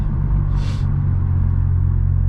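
Tuned 636 BHP VW Golf R four-cylinder engine running at low revs, a steady close rumble with a brief airy hiss, no voices.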